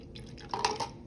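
Water poured slowly in a small demonstration, a brief run of soft drips and trickles, close and faint.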